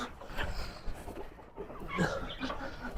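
Chickens clucking in a small mini-zoo enclosure, soft intermittent clucks with some faint background noise, moderately near and fairly quiet.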